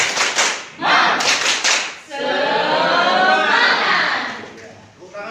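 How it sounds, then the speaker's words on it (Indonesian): A classroom of students claps in a rhythmic spirit cheer, bursts of sharp hand claps in a quick pattern followed by a longer stretch of sustained clapping that fades out. "Tepuk tangan seperti itu."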